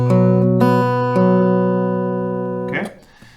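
Acoustic guitar picks the B-part riff of a song, with about three plucked attacks ringing into one another before a brief muted scrape near the end, close and clear with no voice.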